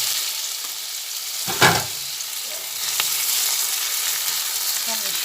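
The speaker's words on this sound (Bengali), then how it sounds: "পেঁয়াজটা ভাজা হচ্ছে" Steady oil sizzle of onions frying in a pan, with a brief louder clatter of stirring partway through.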